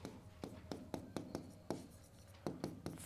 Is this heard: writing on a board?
yes